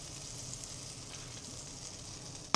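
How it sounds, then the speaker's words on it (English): Filet mignon sizzling in melting bacon fat in a pan, a steady close hiss and crackle of frying with a sharp clatter at the very end. "With the filet mignon and the bacon fat. So you can see it melting now."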